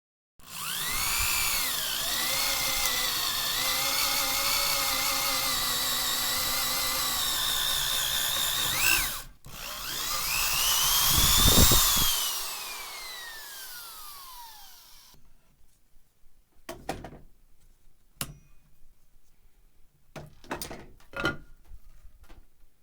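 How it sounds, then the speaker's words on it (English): A power drill whines at high speed through a wood board for a mountain cabin loft floor joist for several seconds, pauses, revs again and trails off, followed by scattered clicks and knocks. "Now I can probably drill a hole there without the drill bit wandering away from the board."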